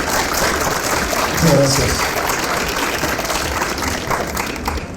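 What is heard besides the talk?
audience applause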